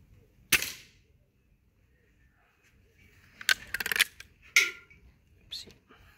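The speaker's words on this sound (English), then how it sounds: "Let's see how it sounds when it shoots." A home-tuned spring-powered air rifle fires with a sharp, quiet crack, followed a few seconds later by a cluster of mechanical clicks and snaps and a couple of softer taps, all close in an otherwise hushed room.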